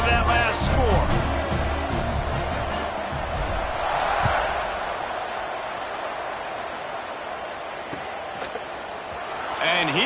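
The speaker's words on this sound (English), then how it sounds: "this crowd is buzzing after that last score" A stadium crowd at a football game buzzes with a dense, sustained roar just after a score, swelling and easing over ten seconds with scattered sharp accents, while a commentator talks over it.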